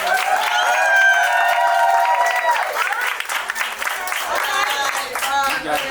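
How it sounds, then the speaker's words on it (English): An audience applauds and cheers for a contestant at a poetry slam, with dense clapping under an announcer's voice, followed by a few louder separate claps. "give a round of applause for Bird, who scored a 80 overall"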